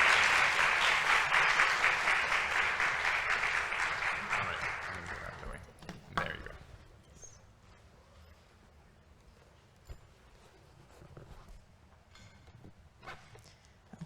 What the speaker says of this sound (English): why don't you join me in giving a great round of applause for these fantastic students